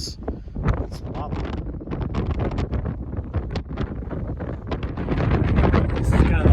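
Wind gusts across the microphone in a valley beside a warm lava field at the Fagradalsfjall volcano, a steady rough buffeting that grows stronger toward the end, with no speech in between.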